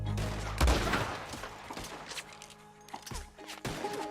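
Sniper rifle shots from the video game Red Dead Redemption 2: two heavy, booming reports a few seconds apart, close and loud, with quieter game ambience between them.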